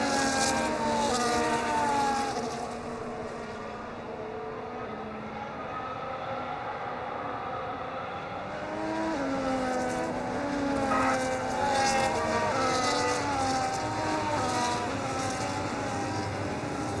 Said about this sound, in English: the cars take their positions on the grid